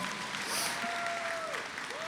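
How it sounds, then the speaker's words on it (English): Applause at a high school graduation ceremony, a short stretch of distant, moderate clapping from an audience with a faint tone lingering underneath. "That gets a big round of applause."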